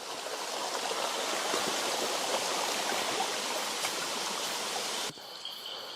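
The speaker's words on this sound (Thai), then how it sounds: "ยินแต่น้ำไหลอย่างเดียว" A mountain stream rushes and splashes steadily in a forest creek bed at night during a rainy fishing outing. The flowing water is loud and continuous, with a brief change in texture near the end.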